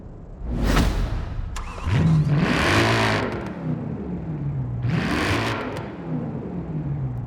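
BMW Z3 Roadster with a 3.0-liter engine in the video game Forza Horizon 4, revving in several sharp bursts that climb and fall, with a steady idle hum between them, close and clear.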